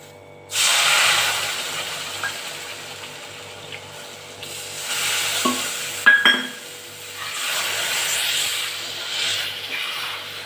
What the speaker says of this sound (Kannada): ಎರಡು ಬೌಲಷ್ಟು ನೀರು ಹಾಕುತ್ತಾ ಇದ್ದೀನಿ